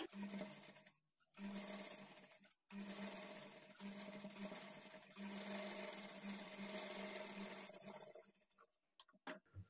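A sewing machine stitches along a blouse waistband with a loud, steady motor hum and fast needle rattle, broken by two brief stops early on before tapering into scattered clicks at the end.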